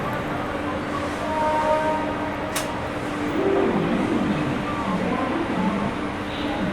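The Sogaria Intercity SF Express (20452) pulls out of New Delhi railway station, running 50 minutes late. A continuous close rumble of wheels and carriages drones steadily, with a brief sharp squeal partway through.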